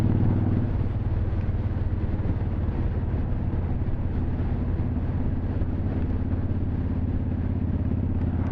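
A cruiser motorcycle rides along with a steady, dense engine drone mixed with heavy wind rush, loud and continuous throughout, with no talk.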